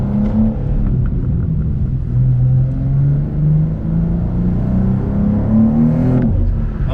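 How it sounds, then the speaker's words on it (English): A BMW M2 G87 with a manual transmission revs under way, a steady loud engine drone rising and falling in pitch throughout, heard from inside the cabin with no talking. "These M cars just sound like mini jets."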